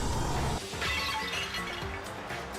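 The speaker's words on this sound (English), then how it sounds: "The crashing sound wasn't even glass. That sounded like clay." A crystal ball smashing in the Danganronpa video game, a dense crash more like breaking clay or porcelain than glass, with a loud broadband burst followed by scattered clatter across under three seconds.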